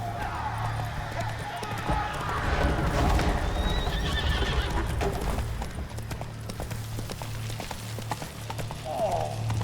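A horse gallops and neighs in The Witcher 3: Blood and Wine, steady rapid hoofbeats with a whinny amid game ambience, while a voice speaks over it.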